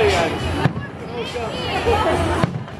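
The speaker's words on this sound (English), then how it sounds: "Watching the fireworks." Fireworks at Disneyland burst as dull, booming thuds at a distance, two sharp reports standing out among a crowd's chatter, with people talking throughout.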